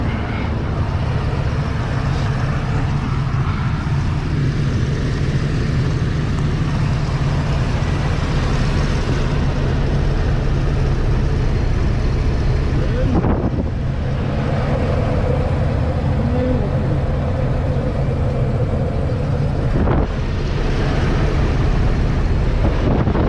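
A Ford E250 van engine idles steadily after an oil change, a loud, continuous low rumble held for over twenty seconds with some wind buffeting on the microphone and no talking.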